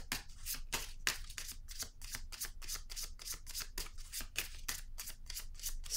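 Tarot cards being handled and laid down, a quick series of crisp, close papery snaps and flicks repeating in a steady rhythm, with no talk.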